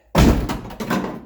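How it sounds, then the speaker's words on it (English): A door with a freshly fixed mechanism closes with one solid, close-up thunk, followed by a softer second knock as it settles. "Close the door. There you go. Love it. Bang in."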